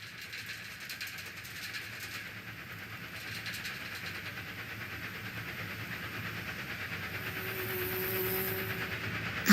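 A moving train in the video game Secret Files: Tunguska, a steady low rumble with a hissing wash and faint rhythmic clatter that swells slightly toward the end, continuous and without voices.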